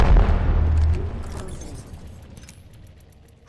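An Arc Star grenade detonating in Apex Legends, a heavy low boom up close that rolls into a fading crackling tail of debris and electric sputter, ending in near quiet.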